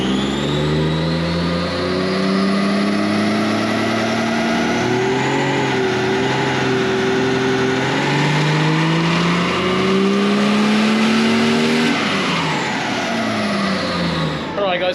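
Toyota JZX100 engine on an E85 tune with around 20 pounds of boost, revving hard and climbing steadily in pitch through a long sustained pull, loud and close, then easing off near the end while people talk over it.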